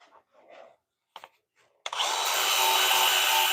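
After a few faint scrapes and taps, a power sander starts abruptly and whirs steadily against a wooden bowl on a lathe, a continuous bright grinding hiss up close.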